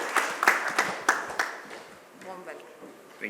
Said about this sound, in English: A big round of applause as we welcome His Excellency, Mr. Philipp Ackermann.